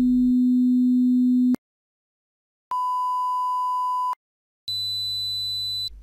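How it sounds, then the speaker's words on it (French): Pure sine test tones step through a low, then a middle, then a very high pitch as part of a sweep from tens of hertz up to 22 kHz. Each tone holds steadily for about one and a half seconds, separated by short silences. "en faisant balayer un son de quelques dizaines de hertz à 22 kHz."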